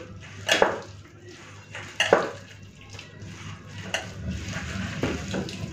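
A thick fish-oil fritter batter with gram flour being mixed by hand in a bowl, a few soft squelching and scraping bursts with light clinks, close and unhurried, against a quiet background.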